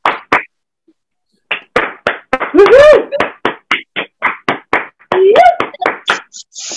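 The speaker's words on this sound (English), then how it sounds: "So please, everyone, give a huge round of applause for Wagon 5" A lecture audience gives a round of applause after a talk on ancient Kemet culture, heard as sparse, separate claps from a small group, with a voice letting out a loud whoop and another cheer partway through.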